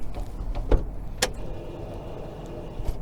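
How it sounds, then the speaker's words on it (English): A Ford F250 truck with a dead battery fails to start, giving a few clicks and thumps followed by a faint whine, all close by and without any talk. "but that's the sound of a dead battery,"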